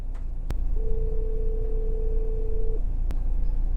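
A phone call rings out through a Carlinkit 4.0 CarPlay adapter in a car, a single steady ringback tone lasting about two seconds over low cabin hum, with faint clicks before and after.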